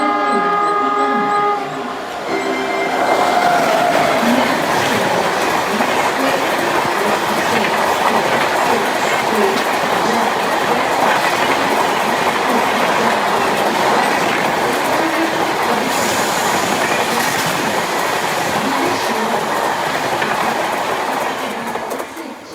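Ranikhet Express 15014 pulling into a station platform: a loud, sustained rumble of rolling wagons with clickety-clack wheels and brief squeals, running steadily for about twenty seconds with no talk.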